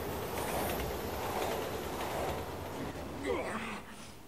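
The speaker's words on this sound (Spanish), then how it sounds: "¡Hostia, el tren!" A train rumbles past in the video game Resident Evil 6, a steady mid-level rolling rail noise with a brief squeal near the end, heard under a voice.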